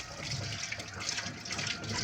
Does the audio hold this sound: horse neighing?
no